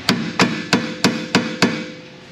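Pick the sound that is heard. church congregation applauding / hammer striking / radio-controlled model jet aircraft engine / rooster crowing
hammer striking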